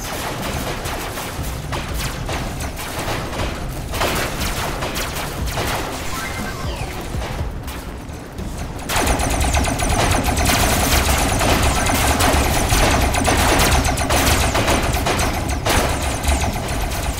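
Sustained gunfire from a video game, Robocraft, with rapid machine-gun bursts and blasts continuing throughout, growing louder and denser about halfway through, with no talk.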